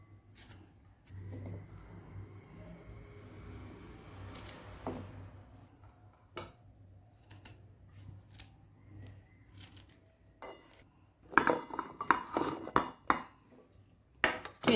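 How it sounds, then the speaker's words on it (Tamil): Coconut being cut up for a Chettinad mutton gravy: soft scraping and knife taps at first, then a burst of sharp, rapid chopping clicks close by near the end. "இப்போ நான் தேங்காவை வெட்டி போட்டுக்கிறேன்."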